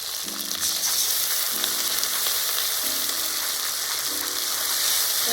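Grated tomato with ginger-chili paste fries in hot oil, giving a loud, steady, broadband sizzle that runs through the whole stretch with no talk. A faint hum comes and goes underneath.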